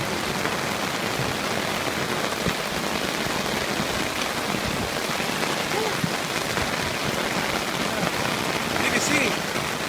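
Heavy rain pours steadily during a rainstorm, a dense, even hiss of drops on surfaces that holds for the whole stretch, close and constant, with no voices over it.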